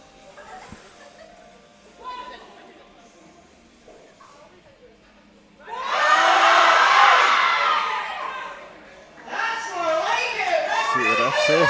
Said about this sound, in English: The crowd's getting behind her for this one.